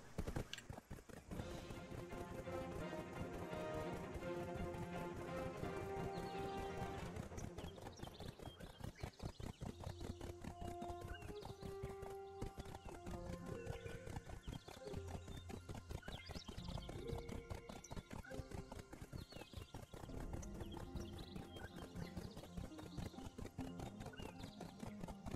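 A steady, rhythmic clip-clop of horse hooves trotting behind the player in Black Desert Online, continuous and even, with game music playing underneath throughout.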